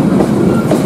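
An elite passenger train, such as the luxury service from Gambir station, rumbling past close by in the morning, a loud steady roar of wheels and cars with no break.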